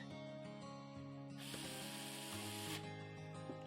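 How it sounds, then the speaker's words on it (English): A screw is driven to fix a mounting bracket onto a PC power supply during a gaming PC build with a Core Ultra 9 and RTX 5080, giving a ratcheting mechanical whir over a steady hum, with a denser hissing burst midway. "We can just take this bracket and screw it onto your power supply."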